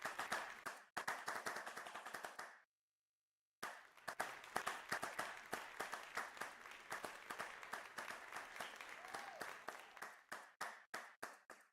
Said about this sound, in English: Let's give everybody another round of applause for our speakers.